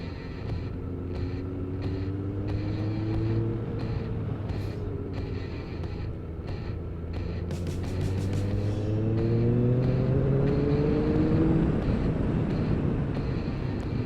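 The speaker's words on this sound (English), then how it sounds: "And the bike's sounding pretty damn good too." A Kawasaki ZZR1200 motorcycle rides along a winding country lane, its engine note climbing and falling through gear changes and accelerations. The engine sounds close and loud over constant wind buffeting, with no talking.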